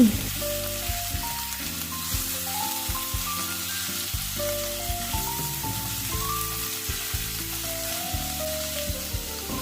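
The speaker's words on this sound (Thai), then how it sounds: "เสร็จแล้วเราก็ผัดเนี่ยค่ะ จนหมูเข้ากันชิ้นใหญ่เป้งมากเลยค่ะ" Marinated pork stir-frying with garlic in a hot pan makes a steady, loud sizzle that runs throughout, with light stirring and background music playing underneath.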